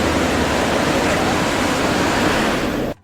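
Broad, steady roar of the Matheran waterfall, where tourists play in the water, filling the scene loudly and evenly before cutting off abruptly near the end.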